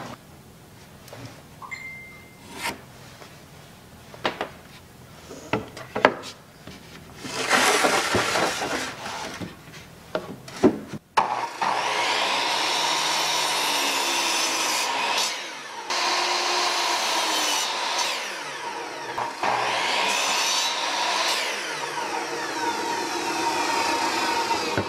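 Scattered knocks and clatter give way to a loud, continuous power saw cutting wood, its whine running steadily with brief dips.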